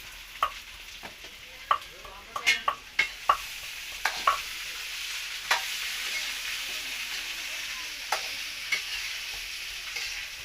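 Potatoes frying in a pan in a village kitchen, a soft, low hiss of oil broken by scattered sharp clinks and scrapes of a utensil, fairly quiet and with no voices.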